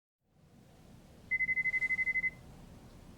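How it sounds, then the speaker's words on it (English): An electronic phone ring in the video game Lost Judgment: a rapid, steady trill of short tones lasting about a second over a low, quiet ambient hum. "The phone?"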